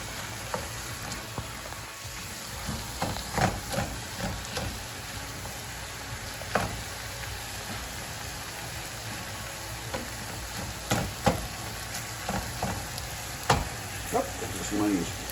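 Ground beef and sausage browning in a pan for lasagna, a steady sizzle with scattered scraping stirs and clacks of a utensil, fairly close, with no talk over it.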